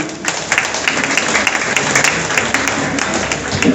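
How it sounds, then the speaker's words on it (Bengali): Sustained, dense audience applause at a welcoming ceremony for International Women's Day, loud and continuous throughout, with steady clapping texture and no clear talk over it. "প্রত্যেকে একটু জোরে হাততালি দেবেন"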